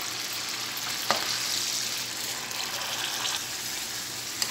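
Paste of three medium tomatoes and an inch of ginger cooking on high flame, a steady low sizzle and bubble with a couple of faint clinks of a spoon stirring.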